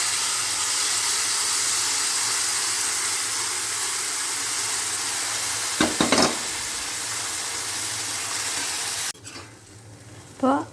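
Cooked cowpeas fry with chilli in a hot pan, producing a loud, continuous sizzle and hiss with a few scraping stirs near the end. The sizzle drops to a quieter crackle just before another stir.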